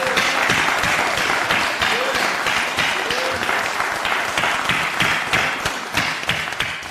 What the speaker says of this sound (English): If we could give our governor and lieutenant governor another round of applause.